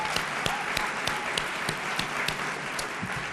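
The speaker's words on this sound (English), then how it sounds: "Let's give them a round of applause." Audience at the 2018 National Family & Community Engagement Conference applauding conference staff, a steady wash of many hands clapping, dense and sustained, with sharper individual claps standing out throughout.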